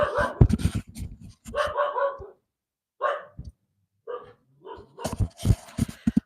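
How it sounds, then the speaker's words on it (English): A dog barks in several close bursts with pauses between, some yips mixed in, loud and alone, heard from a car parked in a compound. "My dog is barking."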